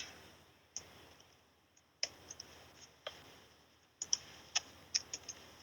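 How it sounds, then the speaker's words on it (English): Clicking of a computer mouse and keyboard in an office during a COVID-19 audio update call, sharp separate clicks in irregular small bursts, close and moderately loud with no talk. "a lot of clicking over there."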